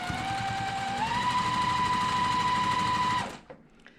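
A sewing machine runs steadily, joining quilt pieces with a continuous mechanical whir and rapid needle chatter for about three seconds, then stops abruptly, leaving a few faint clicks.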